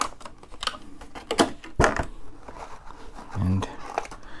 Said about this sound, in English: So we have a clamshell type plastic here.